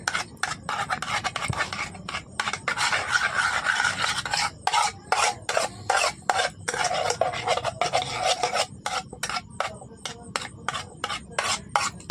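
A whisk scrapes rapidly and rhythmically against a bowl, beating a little milk into a mixture for sweet yogurt made with milk powder, with steady raspy strokes that pause briefly now and then.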